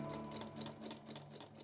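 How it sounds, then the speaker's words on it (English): A sewing machine stitches through paper, running steadily, its needle tapping in a rapid, even rhythm over a low mechanical hum, fairly quiet and continuous. "I like to consider it drawing with the sewing machine."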